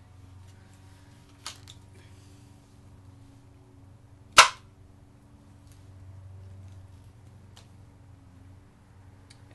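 A homemade dart gun fires one sharp, loud snap, with a smaller click a few seconds earlier, set against a quiet low hum and no talking.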